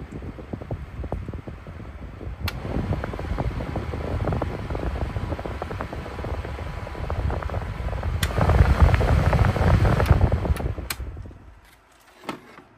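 A Milwaukee M18 0886-20 cordless fan runs on speed 1 with a steady, smooth airy whoosh at close range, a few clicks and a brief knock near the end as it winds down.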